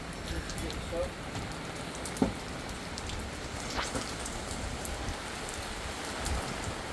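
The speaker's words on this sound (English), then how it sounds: "If you guys can hear that, that's rain," Steady rain patters on a surface during a Utah thunderstorm, a dense even hiss throughout with a few brief louder drop hits, fairly close and with no one talking.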